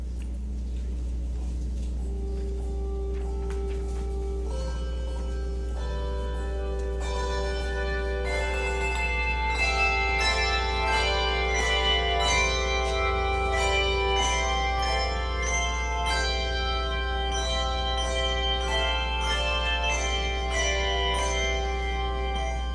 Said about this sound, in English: our bell choir calls us to